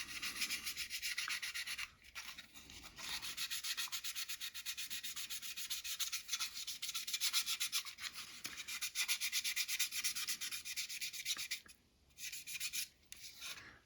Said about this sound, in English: Now let's take this sanding pad here, one of these